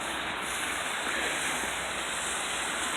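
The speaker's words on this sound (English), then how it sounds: "So you've got a nice waterfall here" Steady, full rushing roar of a waterfall in the elephant viewing area at Discovery Kingdom, continuous and unbroken, fairly loud and close, with no voices.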